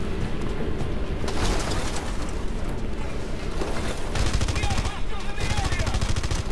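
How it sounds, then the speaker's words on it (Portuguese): Gunfire in Red Faction Guerrilla, dense rapid automatic bursts and single shots crackling continuously and loud, with game ambience underneath and brief breaks between volleys. "Só te dei um tirinho de advertência."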